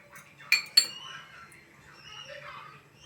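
A spoon clanks twice against a metal pot while rice kheer with milk is stirred, two sharp clinks followed by soft scraping and swirling, close and fairly quiet.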